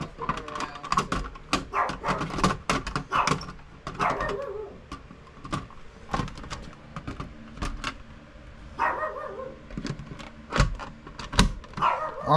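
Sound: puppy barking and whimpering

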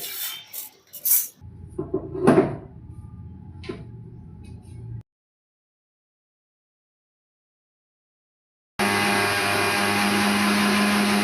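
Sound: masala spices being ground in a mixer grinder's small jar

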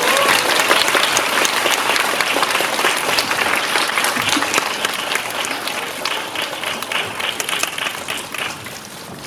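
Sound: audience applause welcoming guests

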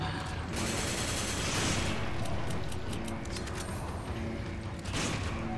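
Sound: shotgun firing in Resident Evil 5 video game

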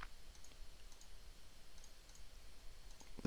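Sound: computer mouse click

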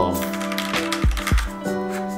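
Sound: mechanical keyboard typing clicks

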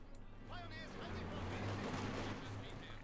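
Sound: Osttruppen rifle fire in the video game Company of Heroes 2

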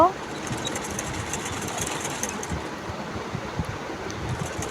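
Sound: sewing machine stitching sleeve onto baby dress

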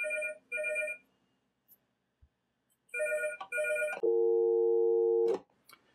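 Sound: landline telephone ringing with UK ring via SLIC module

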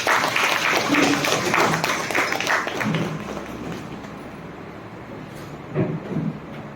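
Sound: applause

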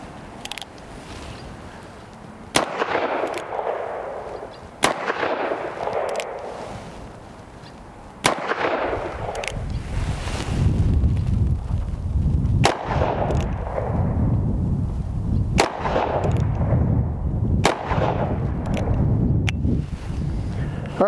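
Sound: wax-load revolver shots, EMF Gambler Royal 45 Colt

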